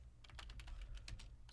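Computer keyboard typing while writing VBA code, a quick close series of about a dozen crisp key clicks in uneven rhythm, including an Enter press, with no voice over them.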